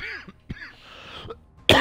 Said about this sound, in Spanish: Ah, pinche tosecita.